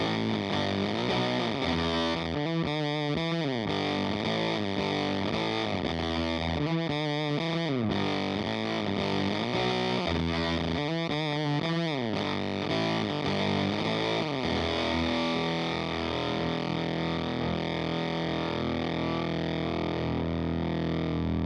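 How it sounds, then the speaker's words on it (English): Hot Knife pedal driven with its gain knob fully up and power pulled back, producing a nasty, glitchy distorted tone with sweeping warbles and stuttering bursts, sustained loud and alone for about twenty seconds. "I push the gain knob all the way up, I pull the power knob back, and I really crush that ceiling, and I get that nasty, glitchy sound"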